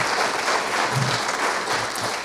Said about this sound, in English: how about a round of applause for the city and the county staff